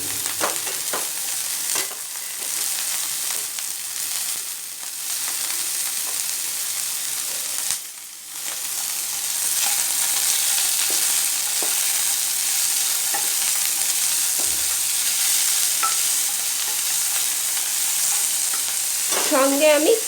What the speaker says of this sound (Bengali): গাজরটা আমি পেঁয়াজ রসুনের সঙ্গে একসঙ্গে ফ্রাই করে নেব।